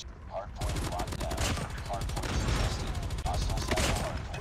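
Gunfire from a gold S36 machine gun in Call of Duty Mobile, rapid sustained bursts of shots in quick rhythmic succession, loud and continuous with game sound effects layered in.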